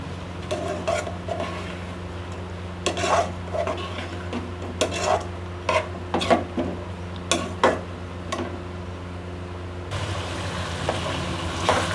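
Spices being stirred into a chicken macaroni mixture in a pan, with repeated clinks and scrapes of a utensil against the metal, in bursts over a steady low hum and with no talk.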